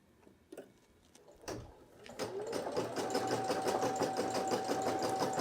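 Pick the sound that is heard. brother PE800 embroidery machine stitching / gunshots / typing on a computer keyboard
brother PE800 embroidery machine stitching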